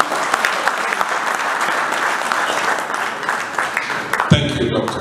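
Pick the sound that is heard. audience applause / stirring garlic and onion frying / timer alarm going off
audience applause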